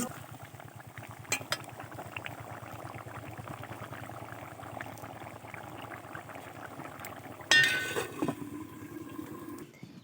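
A parshe fish and taro curry simmers in a pan, giving off a steady stream of soft, rapid bubbling pops. A brief metallic clatter rises near the end.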